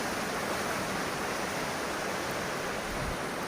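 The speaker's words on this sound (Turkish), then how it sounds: "Suyla işleyen nadir değirmenlerden biri." Water rushing steadily past an old water-powered mill in Yüksekova, a dense, even roar of flowing water with no pauses or voices.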